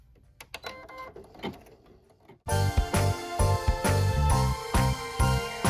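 An embroidery machine runs fast on a satin stitch, a loud rapid mechanical chatter of clicks and thumps that starts abruptly partway through after a quieter stretch of scattered ticking.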